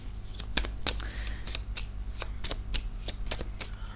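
Tarot cards are handled and laid down in quick, crisp flicks and slaps, a steady run of close papery snaps over a low background hum.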